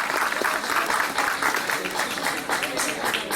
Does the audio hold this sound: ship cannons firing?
no